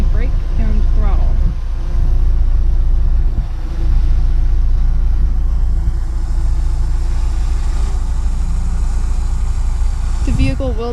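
Steady, loud low rumble of a 2019 BMW's engine as the car backs up under automatic steering assistance, with a person talking over the hum.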